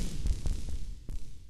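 Glitchy electronic percussion in an indie song production, short stuttering low thumps and clicky bursts in an irregular pattern, close and fairly quiet.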